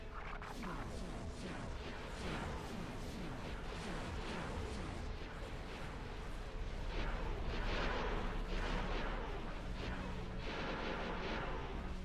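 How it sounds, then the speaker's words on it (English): Continuous, dense bombardment from space battle turrets in the Star Wars Interworlds strategy game, with overlapping booms and rapid bursts of fire that stay loud and steady throughout, with no voices. "Alright, we'll just bombard the hell out of this"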